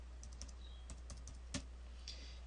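Key clicks from someone typing a short entry on a computer keyboard while annotating a layout, several quick taps in a loose cluster with brief pauses, close and fairly quiet over a steady low hum.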